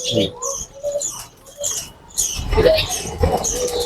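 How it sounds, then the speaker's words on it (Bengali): Lakka fancy pigeons at a bird farm coo and rustle close by in short uneven bursts, with faint voices in the background. "এটা লক্কা কবুতর"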